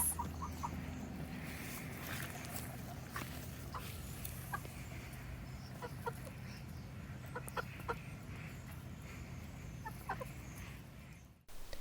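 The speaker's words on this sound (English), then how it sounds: "I'm going to feed our pumpkin guts to my pet chickens." Pet chickens cluck softly and intermittently, with scattered scratching and pecking sounds in a quiet setting, as they are fed pumpkin guts.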